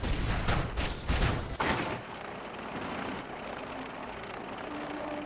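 Turret fire in the Wintergrasp battleground of World of Warcraft: Wrath of the Lich King Classic, with loud bursts of gunfire and booms over the first two seconds, then a steady rumbling battle din with no clear shots.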